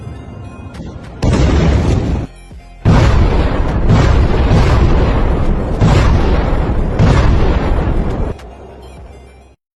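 Missile strikes and explosions in news footage, several loud, heavy booming blasts in quick succession, each a dense roar that swells and holds before the next, ending in a quieter low rumble.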